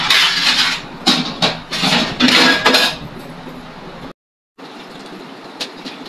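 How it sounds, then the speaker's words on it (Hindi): Dishes are washed by hand at a home sink, with bright clattering of plates and utensils and running water in quick bursts, then a short cut and steadier, softer splashing and occasional clinks. "जल्दी से बर्तन धो लेते, ठीक है।"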